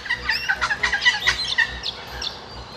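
Noisy flock of little corellas at an urban lake in Western Australia, a rapid run of harsh, squawking calls overlapping close by, fading out after a couple of seconds.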